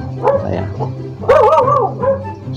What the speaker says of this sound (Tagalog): pasensya na po sa aso na tumatahol.